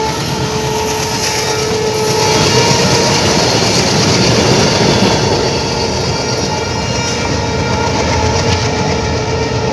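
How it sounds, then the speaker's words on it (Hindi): A freight train crossing a railway bridge at about 100 km/h near Nirmali station, a loud, sustained rumbling roar of rolling wagons that holds steady throughout. "ये 100 किलोमीटर की प्रति घंटे की रफ्तार से अभी ट्रेन ब्रिज संख्या 4 क्रॉस किया है निर्मली रेलवे स्टेशन की तरफ"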